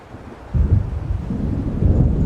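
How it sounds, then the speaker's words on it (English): Thunder rumbles in from an approaching storm in the game Alan Wake: a deep low roll swells after a quiet start and keeps growling steadily, with a slight rise near the end and no talking. "It seems there's a storm coming."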